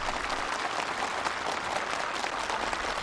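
Enthusiastic applause from a crowd of participants at a housing move-in ceremony in North Korea, a dense, steady wash of many hands clapping continuously and loudly throughout, with no voices over it.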